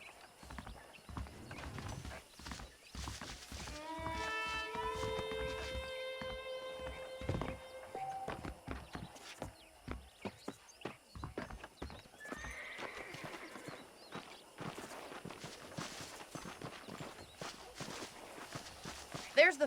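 A horse in Red Dead Online clip-clops steadily on hard ground with a clear whinny early on, while someone talks over the hoofbeats.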